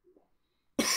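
A single sharp cough bursts out suddenly near the end, loud and close, after near silence with only a faint murmur before it.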